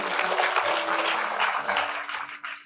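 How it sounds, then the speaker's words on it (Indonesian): Congregation applauding in a church service, steady dense clapping throughout that thins slightly toward the end, with no talking over it. "Ya, setuju, berikan tepuk tangan."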